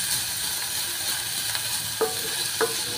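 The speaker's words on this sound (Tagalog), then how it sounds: "Brown muna natin. Kailangan maging brown para mabango." Marinated chicken browns in a hot pan with a steady, close sizzle and frying hiss throughout. A couple of light utensil scrapes and clicks sound as it is stirred.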